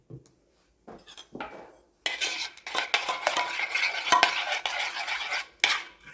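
A metal spoon clinks and scrapes against a bowl and dish as pudding is spooned onto a simple homemade cake, in short bursts separated by quiet pauses.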